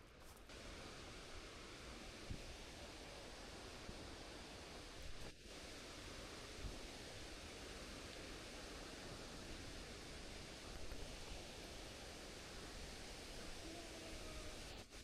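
Steady, dense rush of Twin Falls waterfall at Rock Island State Park, a broad constant roar that fills the whole stretch without pause.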